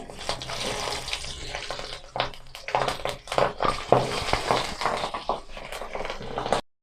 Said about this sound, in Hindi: देखिए जी, अब ये फ्राई हो रही हैं, इनको हम अच्छी तरह सुरख करेंगे